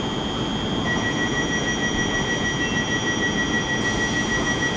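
An SWR Class 450 electric train, units 450062 and 450112, passes at Havant station with a loud, steady rumble and a high electric whine that holds throughout. No one speaks.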